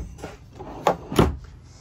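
Storage drawers in a 2023 pop-up camper slide and knock, giving two sharp wooden-sounding bumps close to the microphone amid quiet room tone.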